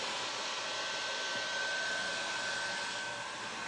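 A hair dryer blows steadily on a freshly painted thrifted tray, giving a constant close whooshing hum with a faint steady whine that holds unchanged throughout, with no voices.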